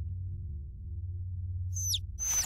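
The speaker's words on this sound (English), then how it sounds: "Where are you going, you damn bird?" Short chirping bird calls in a video game, two quick descending tweets near the end over a low steady hum, faint and brief with no talking.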